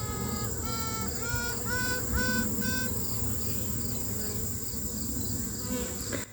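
A queen honey bee toots inside a hive with swarm cells, giving about five short tonal pulses in a row over a dense, continuous buzzing of the surrounding bees.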